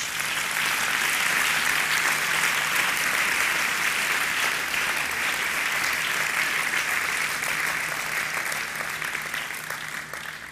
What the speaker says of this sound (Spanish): Vamos a darle un fuerte aplauso a Cristo Jesús.